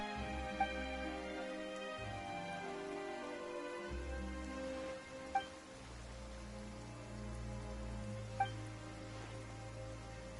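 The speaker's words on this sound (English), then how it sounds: "Why is it raining all of a sudden?" Steady rain falling in the video game Genshin Impact, a soft continuous patter beneath a quiet layered music bed, with a few faint chime-like ticks.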